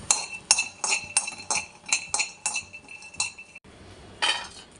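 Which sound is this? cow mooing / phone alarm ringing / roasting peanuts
roasting peanuts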